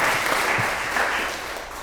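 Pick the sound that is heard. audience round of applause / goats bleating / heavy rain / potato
audience round of applause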